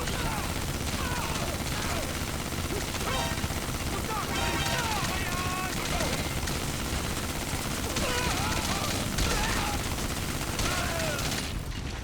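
Gunfire from the video game Metal Gear Solid V: The Phantom Pain rattles in dense, rapid bursts over a continuous roar of helicopter or engine noise, loud and sustained, with a voice talking over the top.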